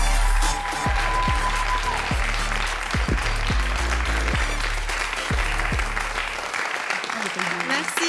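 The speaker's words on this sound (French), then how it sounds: "Alors merci d'applaudir haut et fort Alexandra Van Der Beek." A comedy club audience claps loudly and continuously, with some crowd noise, before the clapping stops abruptly near the end.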